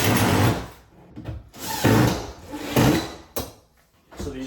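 An IKEA kitchen drawer is dropped into place during installation, several quick wooden knocks and slides in close, uneven bursts with short gaps between them.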